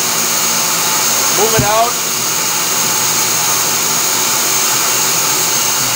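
A Themac tool post grinder mounted on a lathe gives off a steady, loud motor whine and hum. Someone speaks briefly over it near the start.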